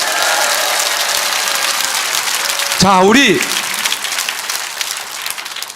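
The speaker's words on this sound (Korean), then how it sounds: "큰 박수 한번 합시다" Audience applause at a Korean political rally, a dense sustained roar of clapping filling the clip, briefly interrupted by a speaker's amplified voice over a loudspeaker.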